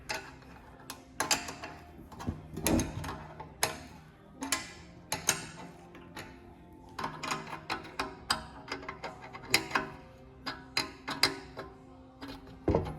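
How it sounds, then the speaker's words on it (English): Fuel pump bolts being tightened in turns on a fuel tank, giving a steady series of sharp metallic ratchet clicks, close and fairly loud, in irregular bursts with short pauses between them. "I'll go around it twice and give them 2 turns, holding the bolt so it doesn't spin and tear the O-ring inside the tank"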